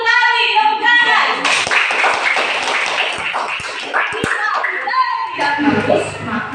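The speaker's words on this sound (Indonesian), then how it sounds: "Betul sekali, tepuk tangan." A primary school classroom of children claps in a brief patter of scattered hand claps, with voices talking before and after, all fairly close.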